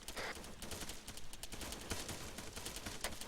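Gunfire during an Arma-style military platoon training exercise, a dense spread of distant shots crackling steadily across the whole stretch with no voices.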